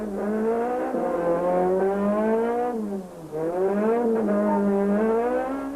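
Rally cars at the 2006 Sasol Rally accelerate hard into the stage, a loud, close engine roar climbing steadily in pitch, dipping briefly mid-run and then revving up again without pause.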